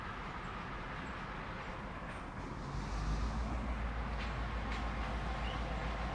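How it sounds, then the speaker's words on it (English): A freight train led by a Southern locomotive rumbles past at a distance, a steady low roar with rattling wagons, growing slightly louder partway through, with some wind on the microphone. "There's a light at the front of that train."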